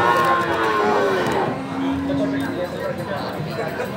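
A Limousin cow at a busy cattle market in Pacitan lets out long, loud moos close by, the lowing rising and falling over steady crowd noise and chatter.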